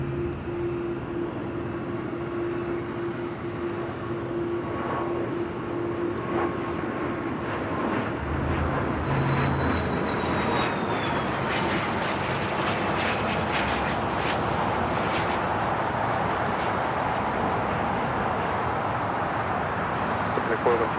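A jet airliner takes off from runway 25 right at LAX. The engine roar rises steadily and holds loud and broad, with a whine that sweeps downward as the plane departs. Tower radio chatter plays throughout.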